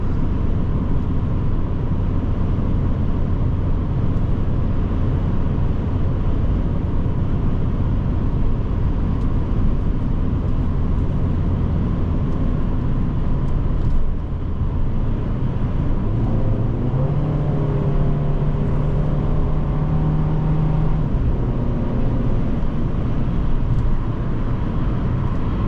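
Steady cabin drone of a 2012 Fiat 500 Sport automatic cruising at 70 mph, continuous engine and road roar with tire rumble, unbroken for the whole stretch and faint tonal whines rising near the end, no talking.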